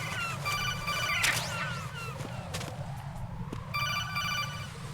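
An in-game phone call rings in Metal Gear Solid 2, repeated electronic ring bursts near the start and again near the end over a low background hum, with no talk.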